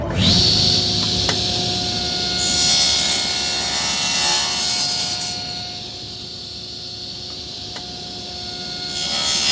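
Table saw with its blade set about 1/4 inch high cutting shallow scoring grooves into a wooden dowel, a steady loud whine and grinding rasp running throughout, briefly easing in the middle before rising again.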